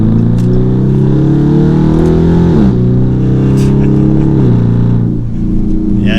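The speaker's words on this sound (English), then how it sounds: "If you really want the Hemi V8, that American muscle sound, this is kind of the only option." A Dodge Charger R/T with its Hemi V8 and aftermarket exhaust rumbles loud and close, the deep exhaust note rising and dipping through a couple of gentle rev changes, with a voice faintly underneath.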